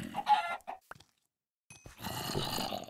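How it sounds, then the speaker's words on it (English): Chickens in Minecraft give a few short, close clucks, go quiet for a moment, then return amid busier game noise. "let me just try and kill a couple more chickens"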